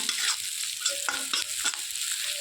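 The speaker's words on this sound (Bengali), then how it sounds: "সুন্দর একটা ফ্লেভার আসছে পেঁয়াজ আর লঙ্কার। আরও একটু ভেজে নেব।" Onion and chilli sizzle in a hot pan, a close, continuous frying hiss broken by brief scraping stirs of a spatula, with no speech.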